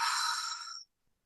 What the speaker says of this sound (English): Mauri ora, breathing out.